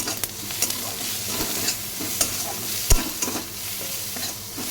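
Garlic, green chili and ginger paste frying with onions in a pan, a steady soft sizzle broken by scattered scraping stirs and one sharp clack of the spoon.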